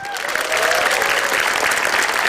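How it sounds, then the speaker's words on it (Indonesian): A stand-up comedy audience breaks into loud applause, with dense, sustained clapping filling the whole moment. "Tepuk tangan buat mahasiswa dong"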